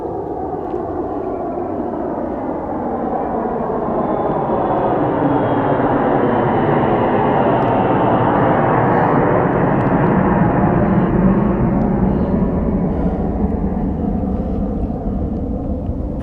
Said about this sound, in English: planes gonna be coming through this lake because we're near the Provo airport here